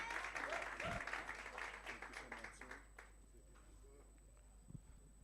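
Applause rises for an exhibitor at a networking workshop, a fairly quiet crowd clapping steadily for a few seconds and then fading, with faint voices in the room.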